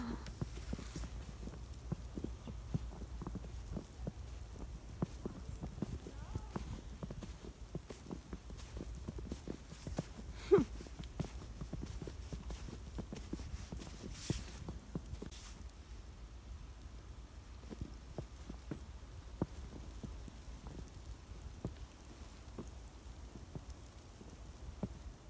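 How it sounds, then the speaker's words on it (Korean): Footsteps crunch through fresh deep snow after a heavy snowfall in Virginia, a steady series of soft squeaky crunches, close and rhythmic, continuing for about twenty-five seconds with no talking. "뽀드득 소리도 장난 아닌데?"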